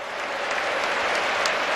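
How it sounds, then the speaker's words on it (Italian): Loud, dense applause from a stadium crowd at an Inter vs. Sampdoria football match, a sustained standing ovation for Luis Figo as he is substituted off. "gli applausi, la standing ovation è tutta per lui"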